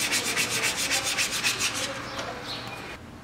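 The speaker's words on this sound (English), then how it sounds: "I'm gonna use this wet or dry sandpaper, and I'm gonna wet sand it" A metal motorcycle triple clamp is wet sanded by hand with 320 grit wet-or-dry sandpaper, a rhythmic rasping scrub of quick back-and-forth strokes that slows and fades near the end.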